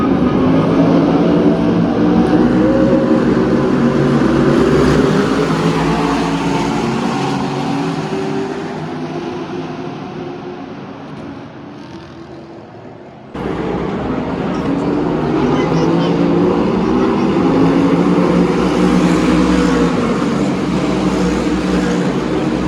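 Race cars pulling away at the start of the Gulf 12 Hours endurance race after the safety car leaves: a loud, sustained engine roar that fades, breaks off abruptly, then swells back to full strength.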